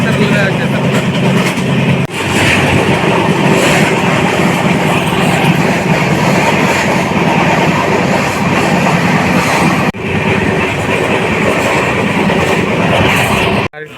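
An Udhna to Jaynagar special train runs along the track, a loud, continuous broadband rumble with steady rolling and rattling that fills the whole stretch, with brief dips near the start and end.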